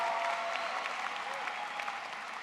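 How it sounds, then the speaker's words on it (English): Graduates and guests at the 2024 Hofstra Deane School of Law commencement clap in a large hall, a sustained wash of applause that is moderately distant and gradually eases off. "You can clap for that."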